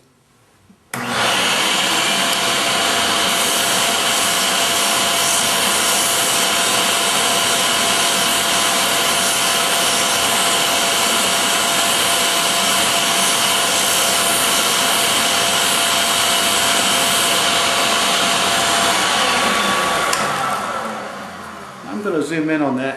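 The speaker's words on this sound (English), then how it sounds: "This 60 grit sandpaper on this drum is great, and the fact that the drum is flexible and contours to the shape" Flexible drum sander fitted with 60 grit sandpaper, rounding over wooden intarsia pieces, runs as a loud, steady whirring grind for about twenty seconds, starting abruptly and winding down near the end.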